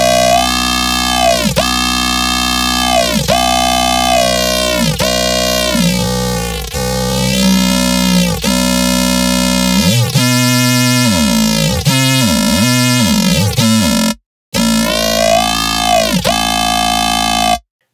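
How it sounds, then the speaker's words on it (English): Serum dubstep lead synth with a modified first LFO envelope plays a rhythmic, wobbling melodic phrase of pulsing, pitch-sweeping notes, loud and continuous, with a brief dropout near the end and no talking. "if you slightly modify this first LFO envelope, you will get a almost completely different sound."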